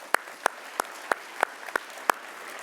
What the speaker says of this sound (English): Let's give them another hand, please.